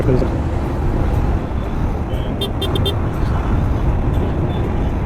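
Dense road traffic in a jam beside roadworks in Navi Mumbai rumbles close by, with engines idling and a few brief horn toots; a voice talks over the noise.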